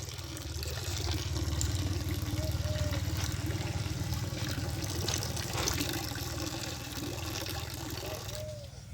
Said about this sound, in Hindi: इसमें हम ये लिक्विड कंसोर्टिया डाल रहे हैं।